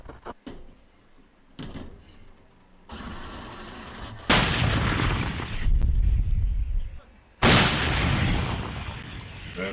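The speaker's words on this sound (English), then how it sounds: "That is one mean sounding gun." Heavy artillery gun firing in the war in Ukraine, with two loud, booming blasts that stand out sharply against quieter background noise and movement.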